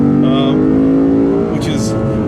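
Loud, close engine drone from a 2015 Lexus RC F's V8 as it accelerates, a steady throaty hum with a rising pitch, with faint chirps near the end.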